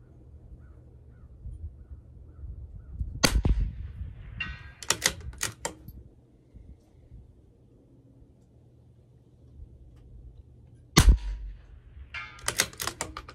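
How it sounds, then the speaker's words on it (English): CZ 457 LRP rimfire rifle firing at a rifle match, with sharp isolated shots spaced apart, each followed by faint clatter of bolt handling, over a quiet outdoor background with birds. "Maybe I'll just shoot the next 4 shots, the same hold, and then I'll adjust."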